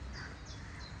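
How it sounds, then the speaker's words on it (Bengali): Crows cawing in a spring city setting in Berlin, Germany, a few faint, distant caws over a soft outdoor background. "পাখি ডাকছে।"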